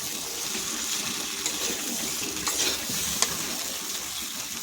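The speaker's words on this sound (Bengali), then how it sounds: "একটু সবজির সঙ্গে ভালো করে কষে নেব। মটরশুঁটিটাও দিয়ে দেব।" Vegetables and green peas being sautéed for katla fish curry, a soft continuous sizzle with light stirring and a running-water wash in the background, fairly faint and close, no speech.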